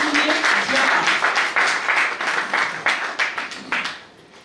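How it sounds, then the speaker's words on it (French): An audience at an association conference in France gives a singer steady, dense applause that holds for several seconds before tapering off at the end. "je vous demande vraiment de l'applaudir chaleureusement"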